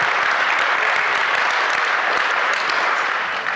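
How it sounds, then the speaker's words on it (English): Dense, steady applause from an audience at a Martin Luther King Jr. commemoration service, loud and unbroken throughout the short stretch, fading slightly at the very end. "Let's give him another round of applause."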